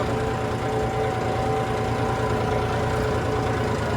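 A tractor engine drones steadily as it works through a flooded, puddled paddy field, a continuous low rumble close by and fairly loud, with no talking.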